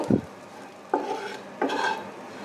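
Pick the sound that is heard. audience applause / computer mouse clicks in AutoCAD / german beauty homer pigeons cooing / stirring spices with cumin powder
stirring spices with cumin powder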